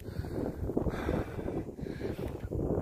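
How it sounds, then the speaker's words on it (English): Strong gusty wind buffeting a microphone outdoors at a springtime beaver trapline, a constant low roar with surging rushes, loud and close, with no voices. "It is pretty windy out here, so."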